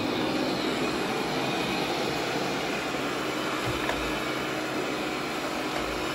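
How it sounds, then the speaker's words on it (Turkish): Steady, close-up whirring hum of a Neabot Nomo Q11 robot vacuum running continuously, a broad airy motor noise with no pauses and no talking. "Çıkarttığı sesi yakından duyabilmeniz için robot süpürgenin iyice dibine kadar gireceğim."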